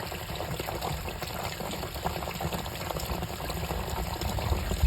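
Dirty coolant drains out of a Triumph Stag radiator, a steady rushing, splashing pour of liquid that continues unbroken and grows slightly louder toward the end.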